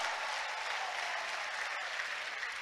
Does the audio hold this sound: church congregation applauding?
yes